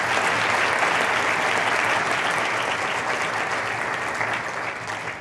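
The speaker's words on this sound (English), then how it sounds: "I think we should give all the competitors a round of applause for an excellent job." Dense, steady applause from an audience at the University of Alabama 2016 Three Minute Thesis competition, honouring the competitors, loud and continuous throughout before easing slightly at the end.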